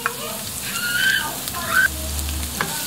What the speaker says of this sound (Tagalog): Ngayon, sunod na natin yung bawang at sibuyas.